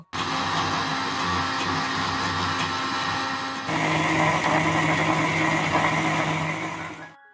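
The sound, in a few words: mixer grinder grinding cashew, poppy seeds, green chilli, tomato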